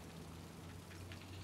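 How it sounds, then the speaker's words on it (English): Steady heavy rain in the video game Heavy Rain, a dense continuous hiss of downpour with a low rumbling hum beneath, with no voices. "You saw that was like 5 inches of rain."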